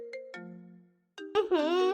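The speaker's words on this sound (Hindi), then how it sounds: "किसका फोन आ गया?" A phone ringtone plays a short electronic melody of sustained tones, followed by a brief voice.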